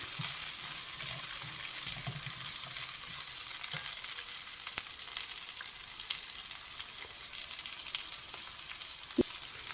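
Tomato sautéing in an oiled pan for semiya rava dosa gives a steady, continuous sizzle with faint scattered pops and occasional stirring clicks, close and alone without speech.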